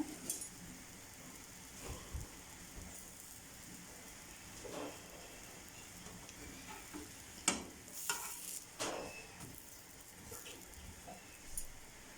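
A paratha cooking on a hot tawa makes a faint, low sizzle with light scattered crackles and a few sharper ticks and pops, quiet and close, with no voices over it.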